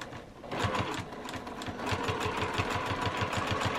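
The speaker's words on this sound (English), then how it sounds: "So let me just carefully stitch this." Sewing machine stitching the mitered corner of a quilt's binding, its motor starting up after a brief pause and then running in a fast, even rhythmic chatter, close and steady.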